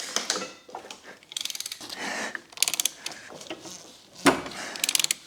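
A ratchet turns the crankshaft of a BMW 335d to work an AC compressor belt into place, making bursts of rapid close clicking between short pauses and clunks, with no talk.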